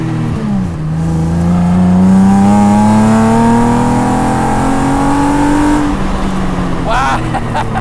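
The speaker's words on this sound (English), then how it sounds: "I thought I didn't like the sound of V6 engines, but when it's in something like this, it kind of fits it." The V6 engine of a swapped Exocet revs hard with wheel spin, a loud close roar that climbs steadily in pitch for several seconds and then drops off, while a voice talks over it.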